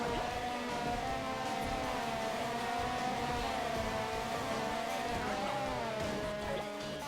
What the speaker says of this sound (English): I like the car sounds drowning out the music.